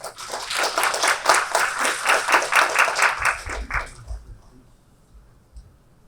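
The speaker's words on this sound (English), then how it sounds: "Please welcome them with a warm round of applause." Rhythmic applause at a Korea–ASEAN strategic partnership forum as dignitaries take the stage, swelling for a few seconds and then fading quickly into near silence.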